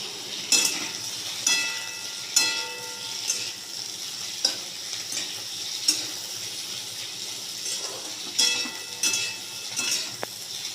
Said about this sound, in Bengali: এখন আমি কড়াইতে অল্প তেল দিয়ে সজনে ডাঁটাগুলো অল্প ভেজে তুলে রাখবো।